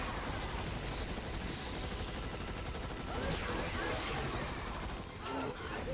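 Rapid gunfire from a weapon in Earth Defense Force 5 crackles in dense bursts throughout, loud and close, with a brief surge of shots near the middle.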